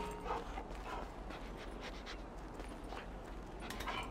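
A dog pants and whimpers quietly in the video game Grand Theft Auto V, soft rapid breaths with faint whines over a low constant background hum.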